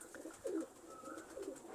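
Large old pigeons coo softly in a couple of low, rolling calls, faint and close, against a quiet background.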